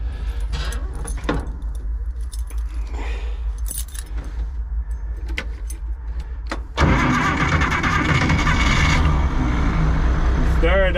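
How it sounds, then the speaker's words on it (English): An old tractor engine, its hood a little beaten up, cranks and catches at an auction preview, rising from key jangling and background noise into a loud, steady running roar that fills the second half. "I'm gonna just try and start it for the heck of it."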